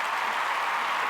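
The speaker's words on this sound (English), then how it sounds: "Little round of applause for me." Applause rings out in a steady, dense wash of clapping, moderately loud and unbroken for about a second, with no voices over it.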